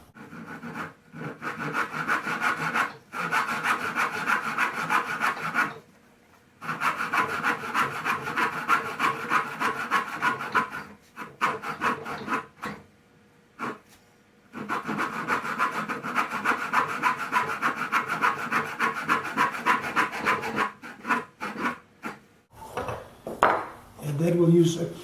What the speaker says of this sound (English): And then I'm just going to use the back saw to make 2 cuts,